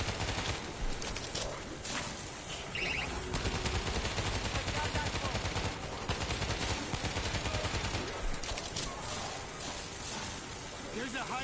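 Rapid, dense gunfire rattles almost without pause in the World War Z zombie shooter game, loud bursts layered over game noise, with voices talking over it.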